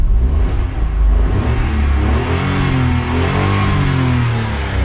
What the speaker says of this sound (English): It revs.